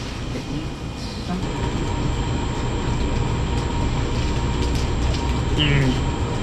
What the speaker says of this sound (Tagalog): we are here at Beito MRT station